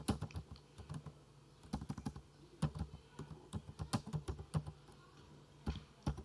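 Rapid, uneven clatter of keys on a computer keyboard while C++ code is typed, close and clear, in short bursts with small gaps and no talking.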